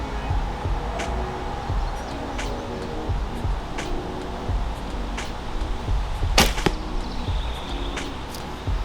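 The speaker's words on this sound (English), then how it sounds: "I'll shoot at the knock of my first arrow" An arrow loosed from a traditional bow strikes a target with a sharp, loud impact near the middle, after a stretch of quiet outdoor background and faint handling sounds.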